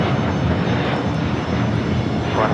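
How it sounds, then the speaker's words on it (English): A Boeing 787-8 Dreamliner jet taking off at LAX, heard as a loud, steady engine roar that fills the whole clip without a break. "787-8 Dreamliner taking off to Tokyo, Haneda."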